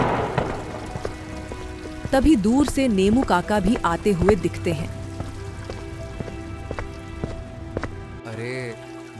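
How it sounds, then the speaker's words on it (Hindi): Heavy rain pours steadily on a stormy night, a dense hiss with scattered drops, while a narrator speaks over it throughout and a brief musical swell rises midway. "बारिश काफी तेज पड़ रही थी"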